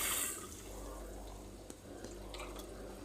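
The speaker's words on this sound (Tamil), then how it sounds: "ரசம் புளி தண்ணியை எடுத்து அதில் ஊற்றிடுங்க." Tamarind water for rasam pours into a pot in a soft, steady trickle, faint and close, with a few small splashes and no talking.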